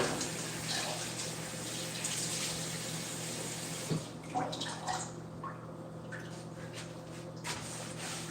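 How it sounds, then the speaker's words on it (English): A kitchen tap runs steadily while hands are washed beneath it, a constant broadband rush with a low hum, thinning after the midpoint into a few scattered splashes and drips. "Let me just quickly wash my hands."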